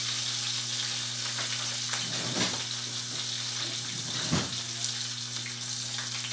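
Garlic and onion sizzle in a pan as they brown, a steady close hiss with a continuous hum underneath and a couple of brief louder bursts of spatter.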